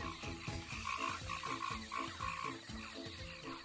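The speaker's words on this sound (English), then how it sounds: "There are frogs in the jungle." A chorus of frogs croaks in a jungle in fast, rhythmic pulses that repeat evenly. The calls are soft and fairly close, with no other sounds.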